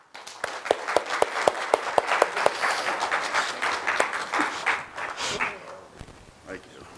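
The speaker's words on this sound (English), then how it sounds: "I think we should give them a round of applause." Church congregation giving a round of applause on Father's Day, a few sharp claps at first, then swelling into a steady mix of clapping and voices that fades out.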